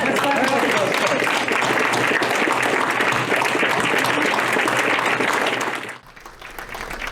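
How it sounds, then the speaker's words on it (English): Dense, loud audience applause for union workers at an awards event, sustained clapping for about six seconds before dropping off sharply, with faint voices beneath. "Let's clap it up for those folks."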